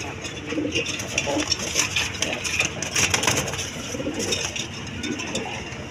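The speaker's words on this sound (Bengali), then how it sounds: "দর্শক এইখানে এক পেয়ার কিং কবুতর আছে দেখেন, একদম বিগ সাইজের" Pair of big King pigeons, male and female, coo softly amid a steady wash of background noise and faint clinks, with no speech over it.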